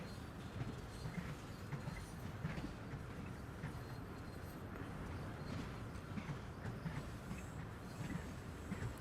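GP40-2 locomotives on a CSX heavy haul line in Train Sim World, a steady low rumble of rolling rail cars with faint clicking and squealing, continuous and quiet with no talk.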